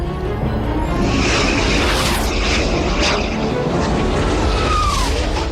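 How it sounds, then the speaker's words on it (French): Missile launched from a warship's launch rail, a loud, dense roaring rush that holds steady without a break. "Missile tiré, rail vide."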